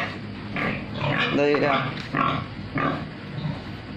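Breeding sow grunting in a farm pen on a pig-breeding farm, a few rough grunts recurring through the clip, mixed with someone talking close by.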